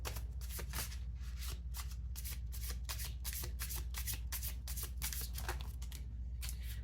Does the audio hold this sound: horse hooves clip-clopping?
no